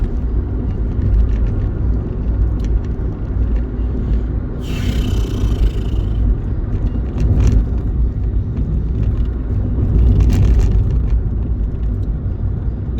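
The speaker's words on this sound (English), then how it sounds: "this fucking vibrating ass dirt road. It's got waves that just sound like it's vibrating" A vehicle driving over a washboard dirt road, producing a steady low rumbling vibration with a constant droning engine, continuous and close throughout, with a few brief rattles.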